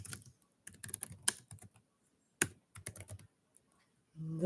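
Brisk clacking of a computer keyboard, close and fairly clear, in irregular bursts separated by short pauses, with no voices.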